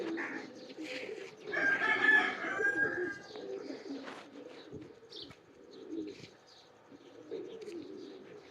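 A female Rampuri Teddy king pigeon coos in low, rolling bursts close by, with faint bird calls and a murmuring voice in the background.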